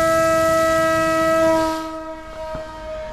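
An RC plane's electric motor runs at 70–80% throttle for a hand launch, a loud steady tonal whine with clear harmonics that fades and drops away as the aircraft is tossed and flies off.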